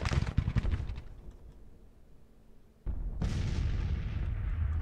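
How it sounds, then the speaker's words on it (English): Artillery fire in the Civil War strategy game Grand Tactician: The Civil War, with a loud opening burst of booms that fades to a low rumble, then a second heavy blast that lingers as a sustained roar. "Here comes the artillery."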